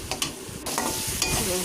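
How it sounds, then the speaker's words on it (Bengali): Fried spices being stirred in a pan, a steady close sizzle broken by scraping strokes of a spoon against the metal. "এই জন্য একটু বারবার নাড়াচাড়া করতে হবে।"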